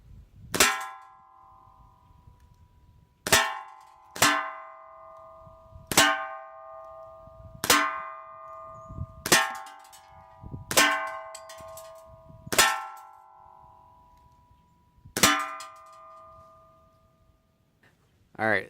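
A Crosman 1911 GI CO2 blowback BB pistol fires at a target, giving about eight sharp, loud cracks with a bright metallic ring after each, spaced a second or two apart with quiet gaps between.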